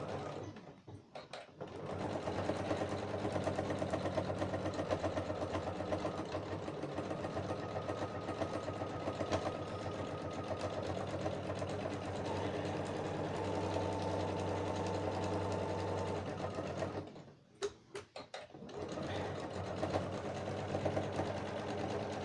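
A sewing machine runs steadily for a long stretch while topstitching around the end of a makeup bag, its even mechanical whir briefly stopping and starting again near the end, with no talk.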